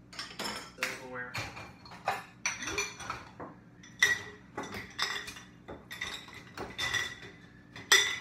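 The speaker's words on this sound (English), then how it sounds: "I'm gonna put this up. Silverware." Silverware clinks and clatters as it is put away in a home kitchen, with repeated sharp metallic chinks of cutlery and dishes arriving in irregular bursts, up close and moderately loud, with some background noise between the clatters.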